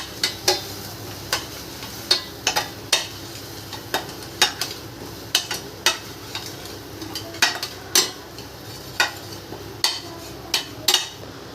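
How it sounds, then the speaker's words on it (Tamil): A spoon stirs a single egg into goat brain podimas frying in a pan with green chillies, producing sharp, evenly spaced taps against the pan over a soft, steady sizzle. "இதை நல்லா மிக்ஸ் பண்ணிடலாம்."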